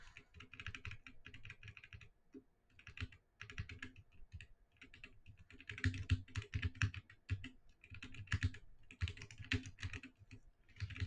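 Rapid, uneven typing on a loud computer keyboard, close and clear, with bursts of keystrokes and short pauses and no talking.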